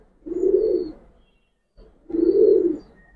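A pigeon coos twice, close and fairly soft, each a low throaty rolling call about a second long, separated by a short pause of near silence.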